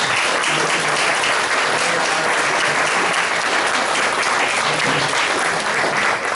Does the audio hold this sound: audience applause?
yes